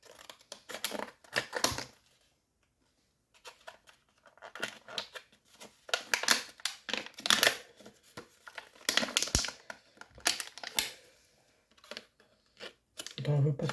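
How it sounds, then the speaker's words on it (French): Scissors snip and cut open school-supply packaging in a series of short, close, crisp bursts separated by pauses, while someone talks between the cuts. "T'inquiète pas, j'ai des ciseaux."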